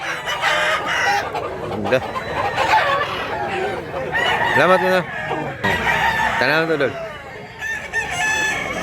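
Several stag roosters crow in loud, repeated calls near the listener, with hens clucking around them and someone talking at intervals.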